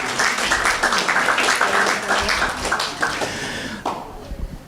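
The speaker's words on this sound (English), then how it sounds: "let's give him another clap" Audience at a fathers' course graduation ceremony in Wollongong clapping for a speaker, a burst of mixed claps that thins out toward the end.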